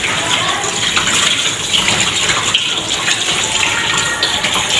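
Tap water gushes steadily into a sink while hands are rinsed with clean water, a loud continuous splashing close to the microphone.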